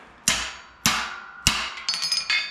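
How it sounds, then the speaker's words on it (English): A swingarm bushing on a 1981 Can-Am motocross bike is tapped into place with a hammer: three sharp, ringing metallic strikes at steady intervals, then several quicker, lighter taps, all close and without talk. "this one's tapping right in when the other one was just tapping the whole bushing out"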